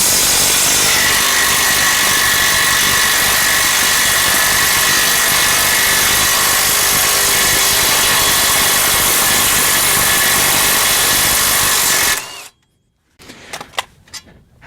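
A power tool works the 18mm caliper bracket bolts, held with thread locker, on a Chevrolet Sonic front brake: a loud, continuous whirring drone for about twelve seconds that stops abruptly, followed by a few sharp metallic clicks.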